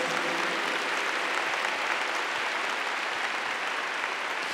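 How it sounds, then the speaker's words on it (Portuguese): A congregation applauding during a Catholic religious talk, a sustained, even roar of many hands clapping, heard at moderate level throughout with no pauses. "Vamos aplaudir a palavra de Deus."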